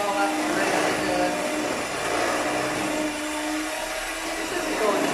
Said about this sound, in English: Mix it all up really good.